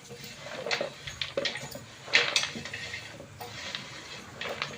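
Cauliflower gobi batter with peanuts being mixed by hand in a metal vessel: soft, irregular scrapes, clinks and wet squelches that come and go, close and fairly quiet, with no talk.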